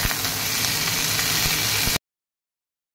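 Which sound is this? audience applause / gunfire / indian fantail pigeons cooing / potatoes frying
potatoes frying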